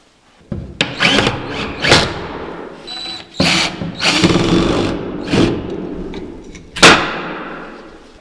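Power drill driving screws into the wooden leg of a Murphy bed, several short whirring bursts of varied length with brief pauses between them, loud and close.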